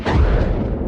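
A single deep firework burst booms close and loud, then its low rumble rolls away and fades over the following moment.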